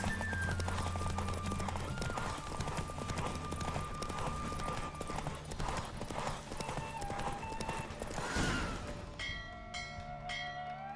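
Horse galloping hard in a race in The Witcher 3 video game, a steady rapid clip-clop of hooves with an occasional whinny, loud and close, easing near the end as bright chiming game sounds come in.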